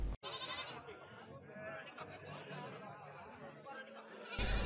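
Goats bleat amid a crowded livestock market in Ajibarang, Banyumas, Central Java, with steady voices chattering throughout and a louder burst of noise at the very end.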